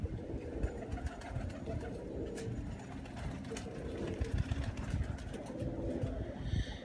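A set-wala pigeon coos repeatedly at close range over a steady low rumble and background hum.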